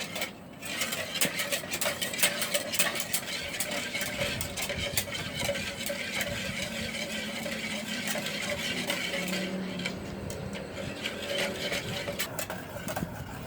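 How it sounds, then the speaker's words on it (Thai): Orange sauce being stirred in a pot until it thickens, a steady scraping and swishing churn running continuously at moderate level with faint clinks, no voices. "ก็ค่อยๆคนไปเรื่อยๆนะคะ กวนไปให้เขาเหนียวหนืดนะคะ"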